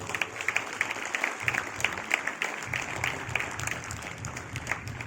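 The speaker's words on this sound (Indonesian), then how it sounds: "beri tepuk tangan untuk kelas 6" Students at a boarding-school opening ceremony clap for the sixth-grade class, a lively clatter with uneven rhythmic surges of many hands, moderately distant in an open gathering.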